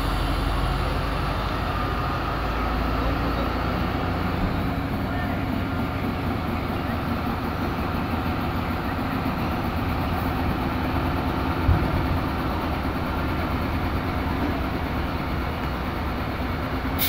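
The locomotive of the Jaffar Express, coupled to its rake, idles at a station platform with a steady, continuous low engine drone and rumble, constant throughout with no other clear events.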